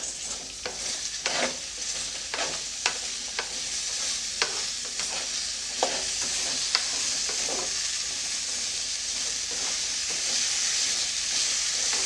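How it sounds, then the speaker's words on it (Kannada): Okra sizzles in about two tablespoons of oil over a medium gas flame, a steady close frying hiss broken by repeated sharp clicks and scrapes of a spatula stirring the pan, with no voices. "ನಾನೀಗ ಅದನ್ನು ಫ್ರೈ ಮಾಡ್ಕೊಳ್ಳೋದಕ್ಕೆ ಎರಡು ಟೇಬಲ್ ಸ್ಪೂನಷ್ಟು ಎಣ್ಣೆನ ಹಾಕ್ಕೊಳ್ತೀನಿ ಗ್ಯಾಸನ್ನು ಮೀಡಿಯಮ್ ಫ್ಲೇಮಲ್ಲಿಟ್ಟು ಫ್ರೈ ಮಾಡ್ಕೊಳ್ಳಿ"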